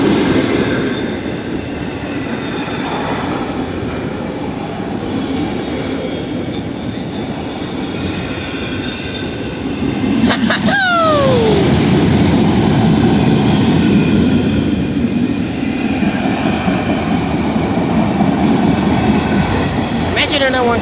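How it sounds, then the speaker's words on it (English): A CSX freight train hauling auto racks loaded with cars rolls past at close range, a loud steady rumble and rattle of wagons building midway, with a sharp metallic squeal and people exclaiming over it. "So y'all need a fact while this train comes by."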